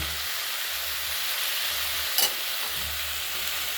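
Spices stirred in a hot frying pan before spinach goes in, producing an even, continuous sizzle at close range with one brief scrape of the spatula midway.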